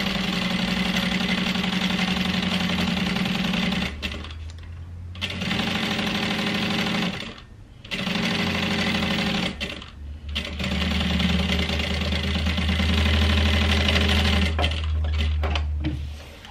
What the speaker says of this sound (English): And with 3/8 of an inch seam allowance, stitch them together.